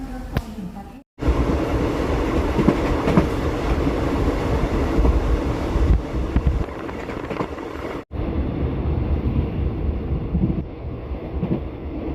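Onboard Thai passenger train number 135 running between Saraburi station and Kaeng Khoi junction: a continuous close rumble of wheels and carriage with wind noise, briefly cutting out twice.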